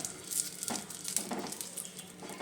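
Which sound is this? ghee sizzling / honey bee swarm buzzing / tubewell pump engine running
ghee sizzling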